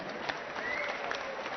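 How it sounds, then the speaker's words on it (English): A boxing crowd at a heavyweight bout applauds a former British heavyweight champion, with steady, fairly faint clapping from a large audience filling the whole moment without any speech. "Let's have a round of applause for the very, very brave fighter, the former British heavyweight champion, Michael Holden."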